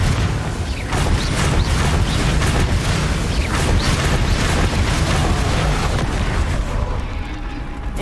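Repeated blasts of the Confringo fire spell in Hogwarts Legacy, a dense run of loud booming explosions and crackling bursts that overlap continuously without pause.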